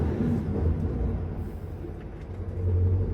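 A 2022 Scania R660 V8 truck hauling 60 tons pulls away, a deep steady low-pitched drone heard from the cab, moderately loud and continuous without distinct gear changes.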